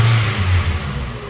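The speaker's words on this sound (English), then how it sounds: "You can hear the pulley." A Ford Focus engine drops from a rev to a steady idle, a loud close mid-range hum with a faint pulley whine running above it.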